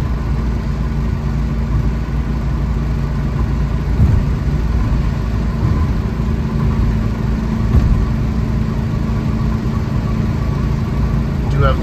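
A 1973 Alfa Romeo GTV on the move, its engine droning steadily and loudly from inside the car with a constant low hum and no voices heard.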